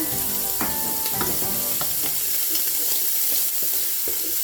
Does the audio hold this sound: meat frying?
yes